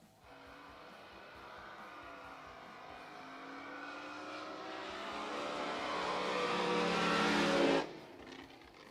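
Pro Outlaw drag powerboats of about 5,000 horsepower roar down the course at a Grand Prix race, a steady engine drone rising in pitch and volume to a loud peak before cutting off sharply near the end.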